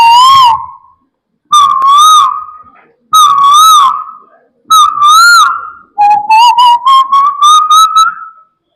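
A person whistles an imitation of the Asian koel's call, which the koel sings from mango trees in summer. Five loud, clear rising whistled phrases sound alone, the last a quicker run of repeated notes.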